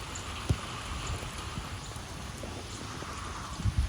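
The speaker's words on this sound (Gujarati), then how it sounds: "આવી રીતે જોરદાર વરસાદ છે" Heavy monsoon rain pours down outdoors, a steady, fairly soft hiss of drops with a few louder splats close by and no voices.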